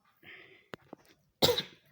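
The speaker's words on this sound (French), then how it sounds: "je vais tousser un peu." A few sharp coughs from a nearby person: two short ones, then a louder, harsher cough after a brief pause.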